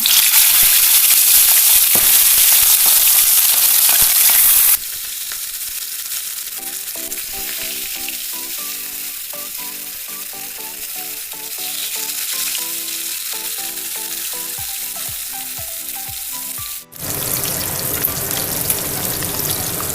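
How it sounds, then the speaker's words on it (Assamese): Fish fries in hot mustard oil in a pan for a tomato fish curry, a loud steady sizzle with dense crackling and spattering pops that drops briefly to a quieter bubbling before surging again, close up and without talk. "সৰিয়হ তেল দিছোঁ। মাছটো দিম।"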